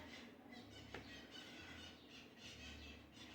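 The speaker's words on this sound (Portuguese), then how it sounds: "que pássaro intrometido" A small bird calls close by with a few brief, thin squealing chirps that sit faintly over a steady low background hum, with no voices.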